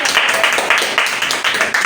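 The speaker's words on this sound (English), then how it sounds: "Clap for yourselves, everybody." Children clap for themselves in a short burst of quick, uneven hand claps, fairly close and lively, with voices mixed in.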